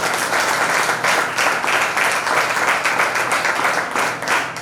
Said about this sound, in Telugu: చప్పట్లు కొట్టి ప్రభువును మహిమపరుస్తాం.